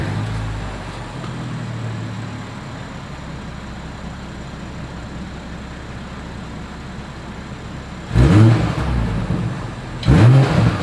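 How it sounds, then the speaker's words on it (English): A 2021 BMW X5 xDrive40i settles into a low, steady idle rumble, then two sharp throttle blips flare up loudly near the end, each dropping back to idle. "As always, here is that exhaust clip."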